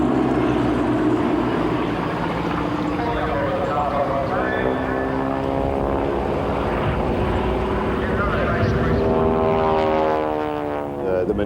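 Propeller aerobatic aircraft of the Six of Diamonds team performing at the 1988 Wings of Eagles Air Show, a loud continuous engine drone that rises and falls in pitch as the planes pass, under a voice talking.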